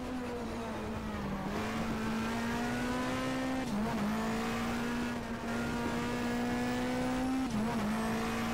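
A race car roars steadily around a track in the BTCC 1997 game, its engine droning continuously with brief gear-shift dips and faint tire squeal, loud and constant throughout without any talk.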